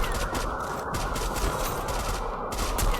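Dense, continuous gunfire from the video game Free Fire during a tournament match, a loud, steady stream of overlapping shots and bursts with no pauses across the whole stretch.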